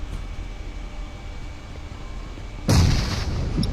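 A grenade goes off in a video game battle, one sudden loud blast after a stretch of low ambient rumble, followed by a fading, noisy roar.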